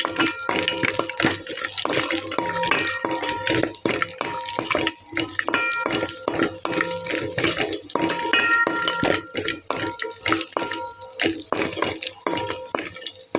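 Almonds, raisins and cashews sizzle in ghee in a kadai, a dense continuous frying crackle with bursts of popping and scraping stirs, close and fairly loud throughout.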